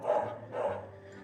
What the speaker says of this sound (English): Sorry about the dog in the background.